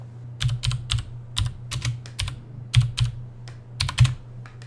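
Quick bursts of computer keyboard typing, close and crisp, as a ping command is entered at a command prompt, with irregular clusters of key clicks separated by brief pauses and no voices.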